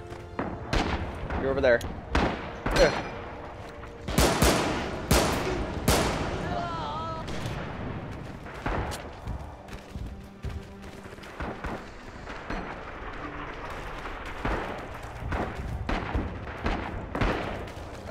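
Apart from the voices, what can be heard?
gunfire in the video game Rising Storm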